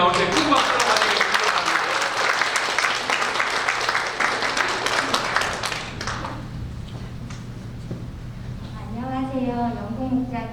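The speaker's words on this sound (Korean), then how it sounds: "큰 박수로 환영해" Church congregation applause during a Sunday worship service, welcoming people to the front; loud, dense clapping for about six seconds, then fading to scattered taps as a voice begins speaking.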